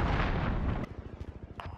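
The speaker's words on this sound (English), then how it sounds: "Allied cruise missile away." A cruise missile blast in the Call of Duty: Modern Warfare Domination mode, a heavy roaring burst that fades into a rumbling tail with sharp crackling pops.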